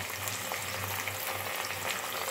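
Baby prawn curry masala fries in a pan with a constant dense sizzle and faint soft stirring underneath, steady and fairly close throughout.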